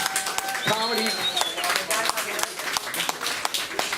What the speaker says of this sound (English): how about a round of applause for Chubby's?